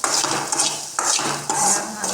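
A metal spoon stirs and scrapes through a salted sauté in a pan in a home kitchen, making close, repeated clinking and scraping strokes in several quick bursts over a soft, steady background hiss, with no voices.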